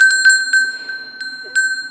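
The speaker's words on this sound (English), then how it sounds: "Another thing that I'm thinking about including for this giveaway is this bell" A small fair trade craft bell rings with a bright, clear tone, struck several times in quick irregular jingles. The notes ring out close and alone, fading between strikes.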